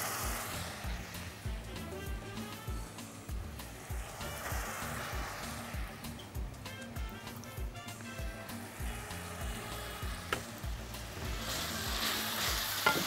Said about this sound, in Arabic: وندبل شويه بقى ايه الفلفل ده، يعني حبه كده تحميره بسيطه